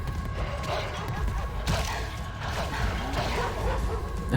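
War dogs bark amid a battle in the video game Rome Total War, their yips and barks rising over a dense, noisy roar of fighting troops and clashing combat.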